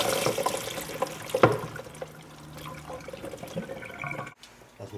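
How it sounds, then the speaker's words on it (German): Sloes and their liquid tipped into a large sieve make a splashing, trickling pour. One louder splash comes early, then a lighter patter and drip runs on, all close by and with no one talking. "Wir nehmen ein relativ großes Sieb und kippen die da einfach rein."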